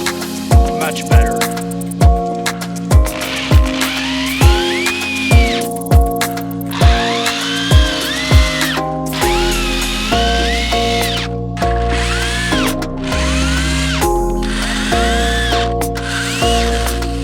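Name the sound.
power drill driving screws into wooden bed framing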